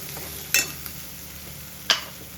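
Homemade masala fries in hot oil for a spicy egg curry, a low steady sizzle broken by three sharp scraping clatters of a spoon against the pan.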